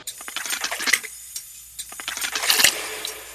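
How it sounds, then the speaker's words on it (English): Water samples processed into wet percussive hits form a loose rhythm of sharp, splashy clicks and taps with metallic, dripping textures, clustering densely and loudly near the end. "I just put the transient preservation technique on them and made like it sounds like a hit, but it's like this wet, weird, percussive thing"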